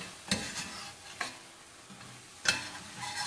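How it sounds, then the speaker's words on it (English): A stew being stirred in a pot, with a few distinct scraping strokes of a utensil spaced over a quiet kitchen background, fairly faint and close. "Let's give this a stir now."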